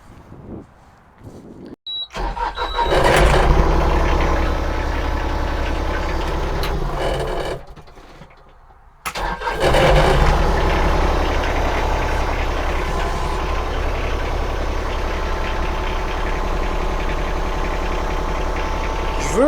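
Compact tractor with a Yamaha engine runs at a steady, loud idle with a dense mechanical rumble, briefly cutting out twice before settling back into a continuous drone.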